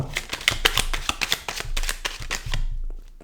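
Tarot cards are shuffled and drawn by hand: a quick run of crisp riffling taps and flicks, close and moderately quiet, with a few softer single snaps as cards are laid out and flipped.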